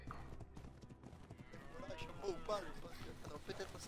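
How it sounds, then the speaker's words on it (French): Chamois hooves clatter in a rapid, steady clip-clop through the ARK game world, moderately close, with talk running over them and some splashy water-like noise in the background. "C'est les chevaux de compétition, c'est les chamois."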